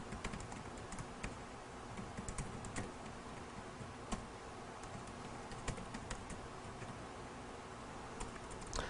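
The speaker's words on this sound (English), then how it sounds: "I got to type one quick thing in." Quick, light keystrokes patter on a computer keyboard in an irregular rhythm. The clicks sit fairly close over a faint room hum, with no voices.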